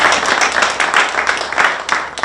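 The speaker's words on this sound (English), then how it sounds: "Can we give a round of applause to my friend?" Close, loud applause from a youth day gathering audience, brisk and rhythmic with individual hand claps standing out in quick succession across the whole short span.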